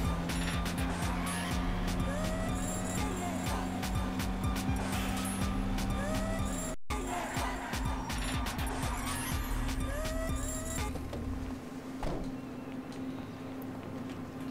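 A car engine drones steadily in GTA Online while the car is driven in a garage area, with a low hum that shifts pitch partway through and faint clatter over it.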